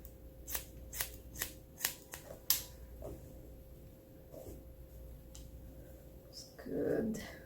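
Scissors snip through men's hair in a series of quick, crisp, close-up cuts at an uneven rhythm, then a pause with quiet room noise and a brief soft rustle near the end.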